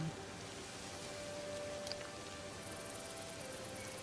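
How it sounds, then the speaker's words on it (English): Steady, soft rainfall in Disney Dreamlight Valley makes a faint, even patter with no variation and no voices. "you can see the sun but also see that it's raining"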